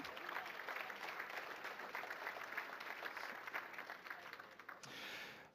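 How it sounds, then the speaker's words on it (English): Audience applause fills a charity auction hall at St. Philomena, a steady wash of many hands clapping at moderate distance, fading slightly near the end with no talk over it. "Give ourselves a round of applause for the fund to need."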